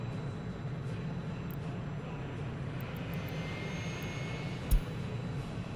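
A passenger airplane arriving in the Workers & Resources city-building game, a steady broadband engine drone holding level throughout with a brief thump near the end, no talk over it.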